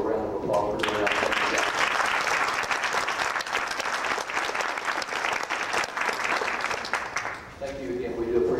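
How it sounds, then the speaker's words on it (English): A gathered audience gives a woman a round of applause at a church or school event before a choir performance; dense, sustained clapping rises quickly and holds for several seconds, then fades as a voice returns. "I think we need to give that lady a round of applause for doing that."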